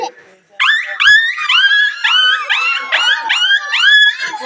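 A voice imitates a puppy's whimper, a run of rapid high-pitched yelping whines repeated in quick succession, loud and close.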